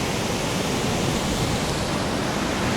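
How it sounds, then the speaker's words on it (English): Heavy surf at Zipolite Beach during dangerous, red-flag conditions, a loud, steady roar of breaking waves filling the air without pause. "But the waves right now are very dangerous."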